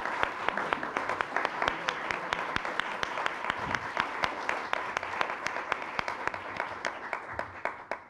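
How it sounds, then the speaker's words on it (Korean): Applause from an audience at a Korean National Assembly policy forum on resolving livelihood issues, steady clapping with sharp individual claps standing out, filling the full stretch at moderate level. "고생하신 분들께 박수 한번 쳐주시면 고맙겠습니다."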